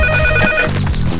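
A mobile phone rings with a loud electronic ringtone that plays repeated tones, alone and close.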